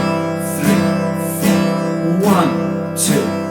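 An acoustic guitar plays four even down strums on a single chord, spaced about a second apart, each a bright attack ringing into the next, close and clear.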